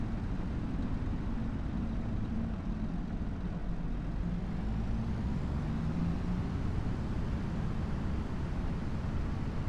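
A Lamborghini tractor in Farming Simulator 25 gives off a steady, low, droning engine rumble that holds an even level throughout with no talking over it.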